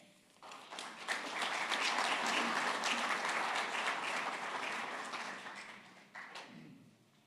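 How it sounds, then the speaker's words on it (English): Applause from an audience at a lakeside community association general meeting, a dense wash of many hands clapping that swells in, holds steady for several seconds, then thins out with a few final claps. "Let's give him another round of applause"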